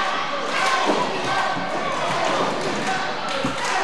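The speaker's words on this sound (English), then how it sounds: "Crowd coming alive for their tag team champions" Wrestling crowd cheering for the tag team champions, a lively, sustained roar of the audience in an arena with scattered thumps from the ring, kept fairly loud throughout.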